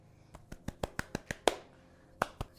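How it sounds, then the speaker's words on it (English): Hands clap through curly hair set with Doux Mousse Def texture foam to break the crunchy gel cast, a quick series of about ten soft, sharp pats, close and fairly quiet with a short pause near the end. "So let's clap out the crunch"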